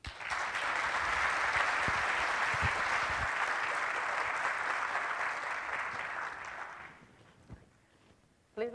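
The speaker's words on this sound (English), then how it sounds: "big round of applause, everyone" Conference audience in Athens breaking into sustained applause for a speaker, dense clapping for about seven seconds before tapering off into near quiet.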